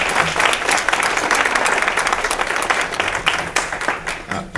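An audience gives a speaker a round of applause: loud, dense, sustained clapping from a crowd that carries on without pause before tapering near the end.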